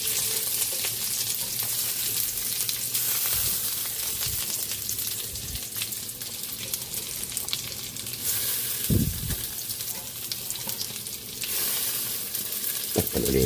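Vegetables frying in a pan for adobong sitaw, a continuous hissing sizzle with a few stirring knocks, close and steady.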